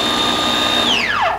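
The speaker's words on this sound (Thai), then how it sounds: "ตอนนี้เราหมุนไปข้างนี้เป็นเครื่องปั่นละนี่" A steamer-blender, switched to its blender attachment, whirs at a steady high pitch while mashing potatoes, then its motor tone drops and winds down near the end, loud and close with no talk.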